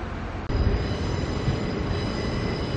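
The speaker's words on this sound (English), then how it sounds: "I see a train coming in on Platform 9 going to Northgate." Loud, continuous rumbling of a train arriving at a station platform, with rolling wheel clatter and a faint high whine, close by and steady throughout.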